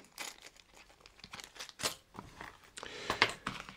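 Plastic packaging crinkles and crackles in irregular bursts as a small key is taken from a Knitpro Day & Nite knitting needle set, close and fairly quiet, with no talking.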